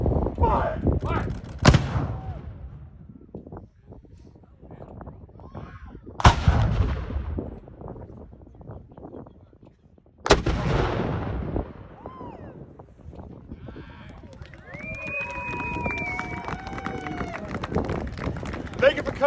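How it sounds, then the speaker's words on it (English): Three Civil War cannons fire in turn at a Fort Fisher artillery demonstration, each a loud, booming report a few seconds apart that echoes off into the distance, with people talking in between and afterward. "So, that was the artillery in action."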